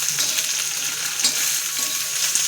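Maharashtrian thecha sizzles steadily in about a spoonful of oil with cumin, a dense continuous frying hiss with faint stirring scrapes underneath, close and fairly loud throughout.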